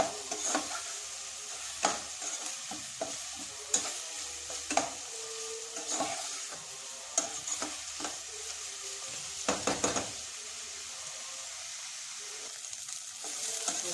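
Chunky onions fry over raised gas heat in a pan for a jackfruit curry, a constant sizzle broken by frequent clacking stirs of the spoon against the pan.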